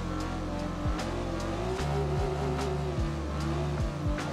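Low-powered drift car engine in Assetto Corsa, droning loudly near the rev limiter with repeated upward sweeps and abrupt drops as gears change, accompanied by rhythmic sharp bursts over a steady mechanical roar.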